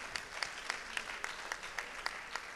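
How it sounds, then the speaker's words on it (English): An audience claps loudly at a gathering against hate, a steady wash of hands with sharper individual claps standing out at a regular rhythm, close and without talk. "We have to clap really loud in here so the other sides can hear"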